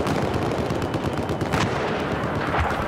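Dense, continuous gunfire fills a Battlefield 4 firefight, loud and close, with rapid overlapping shots and a few sharper cracks from sniper fire standing out.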